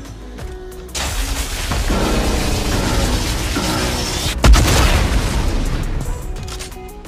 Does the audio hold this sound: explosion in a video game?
yes